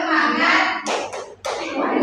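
A classroom of young children performs a rhythmic call-and-response clapping chant, a dense stretch of hand claps and voices with two brief pauses partway through.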